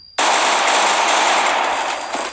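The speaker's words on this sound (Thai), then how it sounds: "แล้วก็ยิงกันเลยนะครับผม" Rapid automatic gunfire from the Free Fire mobile shooter game bursts in abruptly and rattles on as a dense, loud, continuous stream for about two seconds.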